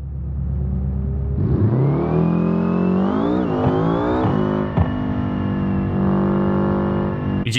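A video game car engine with an automatic gearbox idles, then revs up and pulls away, pitch rising in stepped surges as it accelerates, loud and close with no talking.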